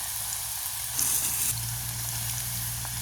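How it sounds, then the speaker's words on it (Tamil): Cassava pieces frying in bubbling hot oil over an outdoor village fire, a steady close sizzle with a brief louder hiss midway and no talking. "நாங்கள் மறுபடியும் கிழங்க போடுவோம் பொரியறதுக்கு அது எண்ணெய் எப்படி கொதிச்சிருக்கு"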